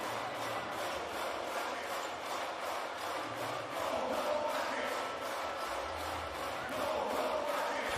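Home crowd at a B.League basketball game between Shimane Susanoo Magic and Ryukyu Golden Kings, a steady distant roar of cheering and rhythmic chanting filling the arena throughout, with no clear talk.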